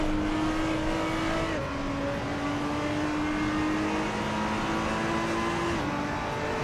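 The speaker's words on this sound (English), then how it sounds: "This is Road America with the Maserati MC12." Maserati MC12 engine on the Road America circuit in a racing sim, a steady droning tone held at high revs with brief dips at gear shifts, loud and continuous with no talk.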